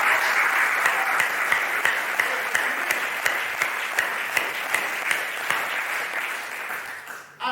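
A sermon congregation claps as hard as it can, dense loud applause with a steady rhythmic pulse of beats running throughout, then stopping abruptly near the end.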